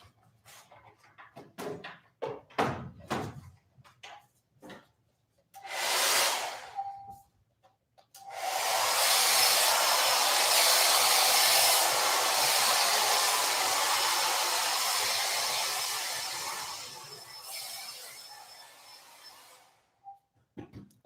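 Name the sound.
hair dryer drying a painting on medium setting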